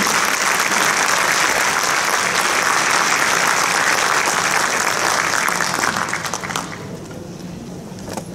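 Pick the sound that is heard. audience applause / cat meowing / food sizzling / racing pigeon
audience applause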